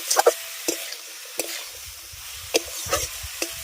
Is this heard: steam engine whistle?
no